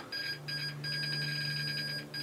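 A Dell desktop computer beeping continuously after its F1 key was pressed over and over: a rapid string of high electronic beeps running with barely any gaps, set against a low steady hum, with no voices.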